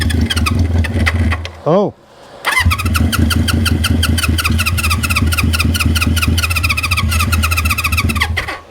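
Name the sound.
1973 Honda CB350four motorcycle engine trying to start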